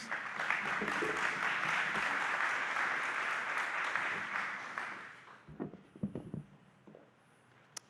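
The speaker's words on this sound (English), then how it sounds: "Please give him a round of applause." Audience applause at a council health committee community conversation on flavored tobacco, steady clapping for about five seconds that fades out, followed by a few scattered sounds and quiet.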